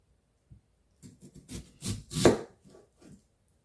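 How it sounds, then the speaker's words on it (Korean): A kitchen knife cuts vegetables by hand on a cutting board, a handful of uneven chopping strokes close up, the loudest stroke near the end, with no talking. "그럼 이제 제가 이렇게 썰고 있으면"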